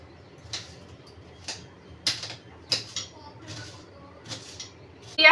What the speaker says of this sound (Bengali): পেঁয়াজটা কেটে নিই